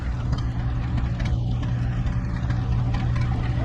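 A Rumely OilPull 25-40 tractor engine runs steadily in an outdoor parade at the Rock River Thresheree, a loud, continuous low rumble with no breaks and no talking.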